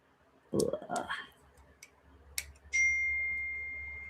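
A phone notification chime rings out clearly, a single bright ding that hangs and fades, following a few clicks and a brief voice at a crafting table.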